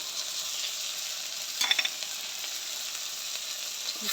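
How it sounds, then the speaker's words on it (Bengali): Steady soft sizzling of prawns with salt and turmeric frying in a pan, with a brief burst of crackling partway through; no voices. "মাছটা ভাজা ভাজা করে নিব।"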